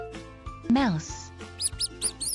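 A cartoonish mouse squeak in a children's animal-learning puzzle, given as a few short high-pitched chirps with a rising-falling cry, set among light music and sound effects.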